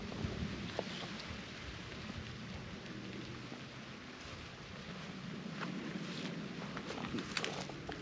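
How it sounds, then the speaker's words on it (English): Wind gusts across open chalk downland at Cissbury Down in mid-August, a continuous rushing roar buffeting the microphone with no one speaking. "it's a little bit windy"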